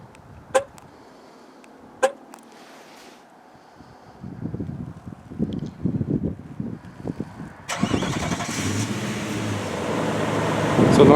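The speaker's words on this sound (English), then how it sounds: "Remote kit's installed. Let's go try it." A pickup truck fires up after a remote start on a snowy day, with a couple of sharp chirps, then a rough engine turning over and settling into a loud steady idle with wind noise.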